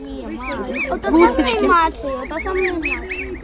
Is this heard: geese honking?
yes